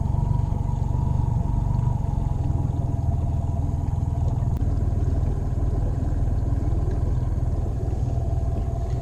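An outboard motor on a 1654 Grizzly Tracker jon boat runs steadily nearby, a loud, even engine drone with low rumble and light clatter throughout, no voices.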